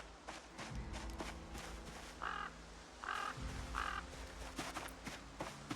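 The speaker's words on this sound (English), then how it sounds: "Couple of birds there." Crows caw in the game Project Zomboid, three distinct harsh calls spaced about a second apart over a steady ambient outdoor background with faint rustling and movement.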